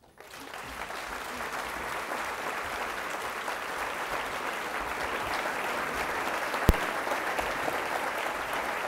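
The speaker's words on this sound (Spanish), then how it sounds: "Demos un fuerte aplauso a Francisco." Sustained audience applause for Francisco at a business forum, steady dense clapping filling the room from start to finish with one sharp click near the end.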